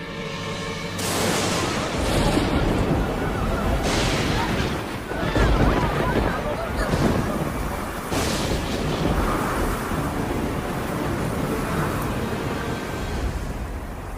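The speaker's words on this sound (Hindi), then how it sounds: "ये तूफान तब तक थमना नहीं चाहिए जब तक वृंदावन पूरी तरह पानी में डूब न" A fierce storm with heavy rumbling thunder, used as a sound effect for the flood sent to drown Vrindavan in an animated Krishna Govardhan tale: dense, continuous roaring with repeated booming bursts throughout.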